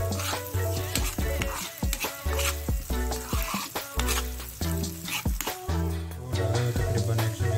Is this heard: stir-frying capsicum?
yes